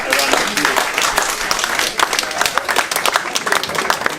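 Loud, dense clapping from a crowd at a club presentation night rolls on continuously, with voices mixed in beneath it.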